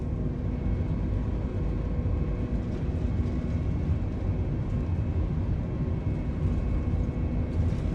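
Airbus A320neo engines roar steadily during the take-off roll in Microsoft Flight Simulator, a constant loud, broadband rumble with a faint whine and no clear change in level.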